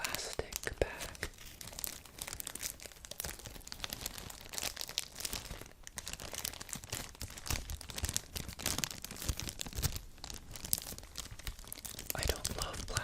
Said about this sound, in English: I don't love plastic sounds, so I'll try to be gentle with this.